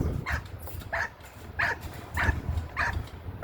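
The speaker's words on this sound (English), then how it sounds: "Nice active puppies." Several puppies bark and yip in short bursts about every half second, fairly close, with a low rumble of background noise underneath.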